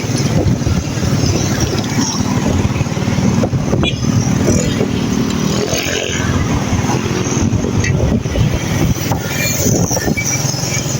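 A vehicle cruising along a highway on a joyride, giving a steady, loud road rumble and wind roar that holds evenly from start to finish with no clear voices.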